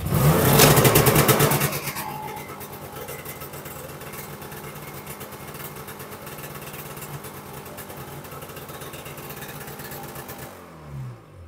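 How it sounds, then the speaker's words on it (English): A Yamaha Phazer snowmobile engine fires up loudly, roaring briefly at the start, then settles into a steady, fairly loud idle with a fine, even pulse before it cuts off near the end. "So let's try and fire it up and we'll see where we can find it leaking from."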